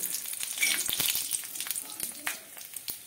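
Dried chilli and five-spice seeds crackle and sizzle in hot mustard oil, a dense spitting fry heard up close with small scattered pops throughout.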